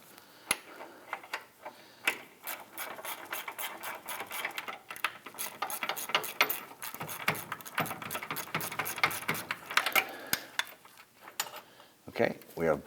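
A control arm bolt being backed out on a 2001-2009 Volvo S60, sounding as a rapid, steady run of close ratchet clicks with brief pauses, loud and mechanical, ending in a few louder knocks.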